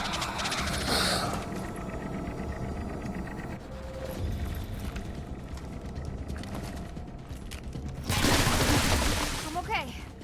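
Gunfire in XCOM: Chimera Squad, with a loud burst of shots early on and a heavier volley near the end over a busy game soundscape, with a voice speaking at times.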